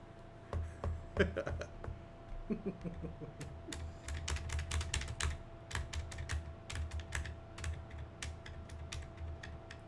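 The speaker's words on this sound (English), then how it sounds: "Better start typing." Keys clatter on a computer keyboard in uneven bursts of quick clicks, close and crisp, with a few brief pauses between flurries.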